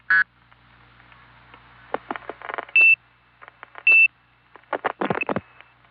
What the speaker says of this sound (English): I can reset that switch by beeping 2600.